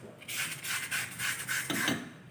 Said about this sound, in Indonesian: Piringan cakram kita amplas terus.